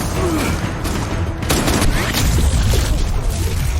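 Rapid bursts of gunfire in a film crackle amid loud action-scene noise, with a sharp volley partway through and continued shots and rumble after.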